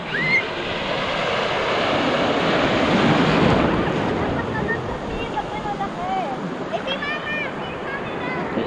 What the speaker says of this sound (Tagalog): Ay, lakas ang alon, no?